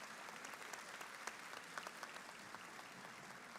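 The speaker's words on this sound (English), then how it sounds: "Please give them a round of applause." Applause rings out for school staff at a high school graduation ceremony, a dense, somewhat distant crowd clapping steadily with a few sharper claps standing out.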